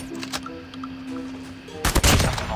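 Shotgun fire in the mobile game Call of Duty Mobile: a sudden, loud, dense burst of blasts near the end cuts through quieter in-game ambience and a steady hum.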